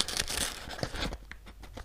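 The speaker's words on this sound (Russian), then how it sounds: "Надеюсь, этот пакетик не порвется при открывании." A paper surprise packet printed with teeth is torn open by hand, giving a close run of crisp ripping and crinkling bursts that fade into softer rustles.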